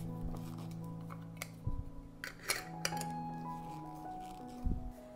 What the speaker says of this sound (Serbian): zatvaram tegle sa čistim i novim poklopcima